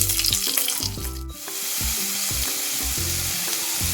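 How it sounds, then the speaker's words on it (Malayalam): Sliced onions frying with curry leaves in a pan for a simple fish curry, a continuous close sizzle and hiss with clattering handling noises, no talking. "എന്നിട്ട് നമുക്ക് എടുത്ത് വെച്ചേക്കുന്ന ഉള്ളി കൂടെ ഇട്ട് കൊടുക്കാം."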